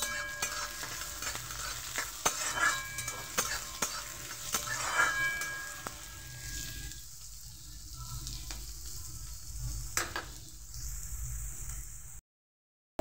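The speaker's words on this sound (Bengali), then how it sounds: "এবার পেঁয়াজটাকে ভালোভাবে ভেজে নেব" Chopped onion sizzles steadily in a hot pan while a spoon stirs and scrapes it now and then, giving close clinks and taps over the frying hiss, then it stops abruptly.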